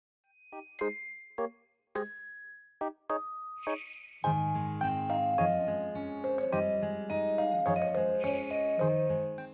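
Small Christmas bells from video game music ring as scattered tinkling notes at first, then blend into a full, bright musical arrangement.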